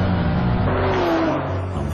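A Porsche Panamera engine revs steadily and loudly for a moment in a car advert, with a rising whirring tone and a dense, continuous roar and no talk.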